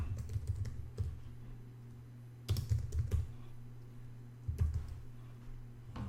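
Fingers typing on a computer keyboard at close range, with quick clusters of clicking keystrokes separated by short pauses over a low steady hum.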